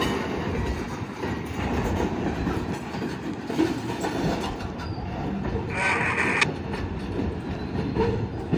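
Railroad cars rolling slowly during switching at a grain cooperative on the Hamilton Northwestern Railroad, a steady close rumble of wheels on track with clanking and a brief high wheel squeal partway through.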